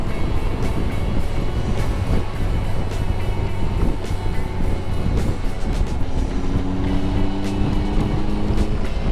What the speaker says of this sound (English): The nice thing about this bike over the Africa Twin is it's the overtaking acceleration.